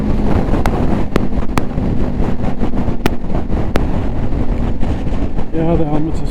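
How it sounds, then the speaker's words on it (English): Strong wind buffets a microphone outdoors with loud, constant low rumbling and gusty roar, broken by sharp crackles, with a voice briefly talking near the end. "Oh, it's windy here."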